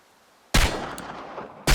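Gunshots in the video game Chernobylite at a target range: two sharp, loud reports about a second apart, the first ringing out into a decaying tail, with no talk.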